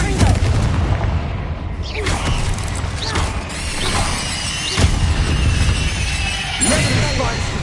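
Confringo spell blasts in Hogwarts Legacy: a dense clatter of crackling, shattering magical impacts with repeated booming bursts at intervals, loud and close, with a voice occasionally heard underneath.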